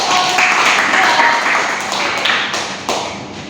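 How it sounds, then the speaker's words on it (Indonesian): A class of children clapping in a classroom, a dense burst of hand claps that fades over a few seconds, with voices mixed in. "Beri tepuk tangan."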